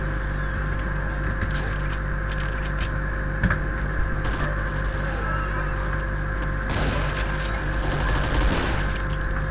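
Fast gunfire rattles through the Doom video game, heavily modded with Project Brutality, as enemies die: dense, continuous automatic shots and bursts over a constant droning background, loud and close throughout.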